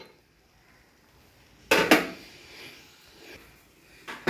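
A lid set onto a pan of banana shira cooking with ghee-roasted dry fruits, heard as a sharp metallic clatter and rattle in a quiet kitchen, followed by softer knocks and a final clink.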